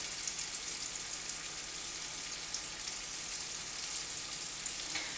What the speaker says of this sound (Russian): С одной и с другой стороны жарить